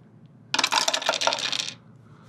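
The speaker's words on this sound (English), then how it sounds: "Dropping it down the dice tower here." Dice clatter down a tabletop dice tower during a Dungeons and Dragons character-building session, a dense burst of rapid rattling clicks lasting about a second and stopping abruptly, close and clear with no voices.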